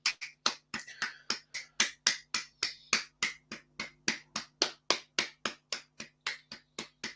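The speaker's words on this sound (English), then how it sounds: "Do you see my massive round of applause for you" One person claps slowly and sarcastically for England, about twenty-five sharp, evenly spaced claps close to the mic with a low steady hum underneath and no crowd.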